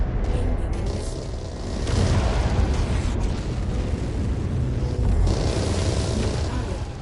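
Loud, continuous rumbling blasts and debris roar from incoming missiles striking in MechWarrior 5: Mercenaries, a sustained wall of explosive noise with surges near two and five seconds and no pause.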